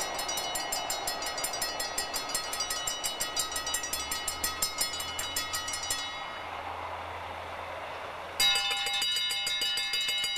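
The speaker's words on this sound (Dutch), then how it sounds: "Dit is de reguliere trein van Aken naar Heerlen." A regular passenger train from Aachen to Heerlen passes at Haanrade, its wheels beating a steady clickety-clack rhythm with ringing metallic tones; the sound eases, then another loud broadband burst arrives as a second train approaches near the end.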